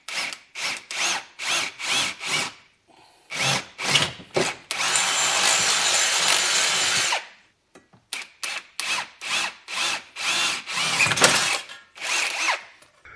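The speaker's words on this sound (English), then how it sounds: "I just need to drill the hole for the bolt" A power drill boring a hole in a plain steel strap cut from sheet metal, heard in repeated short bursts, then one long continuous run, then more quick bursts, loud and close with no voices.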